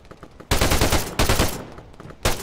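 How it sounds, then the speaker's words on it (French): Rapid video-game gunfire in a GTA police roleplay session comes in three loud, dense bursts of automatic shots, each cutting off abruptly with quieter gaps between. "Ça tire sur la sécu, là."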